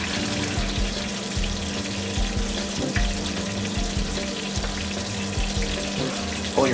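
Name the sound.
tomato marinara sauce boiling in a pot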